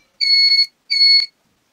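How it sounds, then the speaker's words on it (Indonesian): A homemade door alarm built from ice cream sticks gives two loud electronic beeps, each about half a second long, close and clear with silence between them. "Door alarm sudah jadi"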